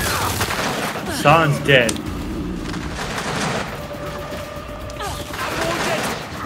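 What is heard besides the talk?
gunfire in the Gears of War 5 video game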